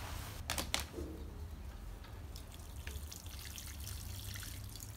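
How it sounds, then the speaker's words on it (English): Water poured onto the soil of a freshly potted plant: a short splashy pour near the start, then faint trickling and dripping over a low steady background hum. "And then immediately we're just going to water it in."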